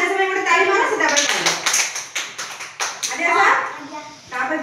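Children clap their hands on command during a preschool activity, a quick flurry of claps that breaks into a few separate claps, with an adult and children speaking around it.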